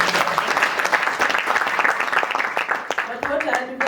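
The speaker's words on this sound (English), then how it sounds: "We should clap for you." An audience at a celebration event breaks into lively applause, a thick crackle of many clapping hands close by, mixed with voices and cheering that rise toward the end.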